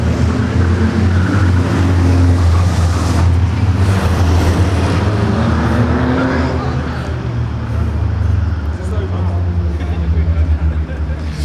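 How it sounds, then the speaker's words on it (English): Race cars rumble as they leave a dirt track to park, a loud, steady engine drone that fades a little toward the end, with a commentator talking over it. "As the cars park themselves up."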